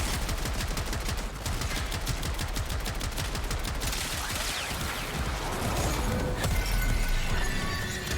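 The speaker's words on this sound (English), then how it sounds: "The Garand ping on this thing makes it all the more satisfying." A weapon in the video game Warframe fires in fast, steady rhythmic bursts, loud and close, with sharp metallic clanks mixed among the shots and no voices present.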